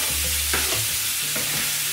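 Onion and garlic frying in a pan, a steady loud sizzle with a few soft scrapes of stirring, no voices.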